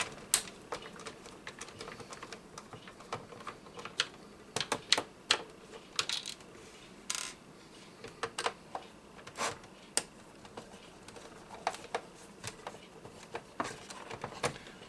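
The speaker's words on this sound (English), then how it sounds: "there are some screws here on the corners that we take out" Small screws being backed out of the corners of a Sega Dreamcast console case, heard as a string of faint, close clicks and light metallic taps at an irregular pace.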